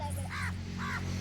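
A crow caws twice, clear harsh calls a short distance away, over a steady low hum.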